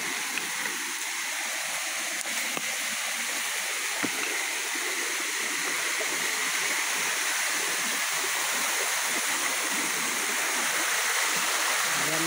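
Busay Falls waterfall roars as a steady, broad wash of rushing water, continuous and fairly close, with no talk over it.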